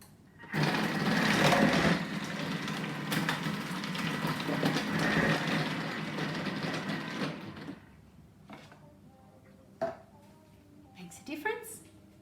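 Thermomix food processor with its cutter attachment running, a steady close motorized whir lasting about seven seconds before stopping, followed by a few clunks and handling sounds.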